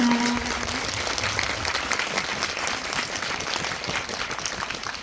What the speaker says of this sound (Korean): 네 분께 큰 박수 보내드리면서 지금 마무리하겠습니다